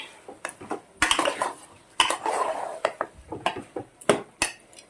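Chicken tipped into a pot and stirred, close metallic clanks and scrapes of a spoon against the pot in irregular bursts with brief pauses between.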